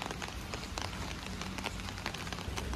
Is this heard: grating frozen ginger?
no